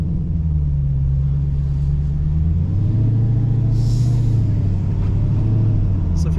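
Dodge Challenger Hellcat Redeye in Go Mango orange cruising at low throttle, heard from inside: a steady deep exhaust rumble with a slight rise in pitch midway, continuous and fairly loud.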